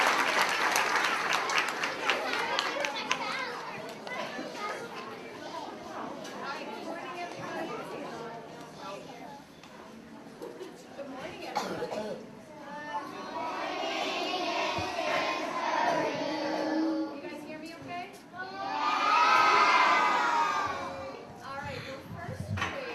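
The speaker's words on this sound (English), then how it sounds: "let's give them a warm, big round of applause" Audience applause at a first grade academic assembly, a dense crowd clapping that swells and fades over several bursts, mixed with chatter and children's voices.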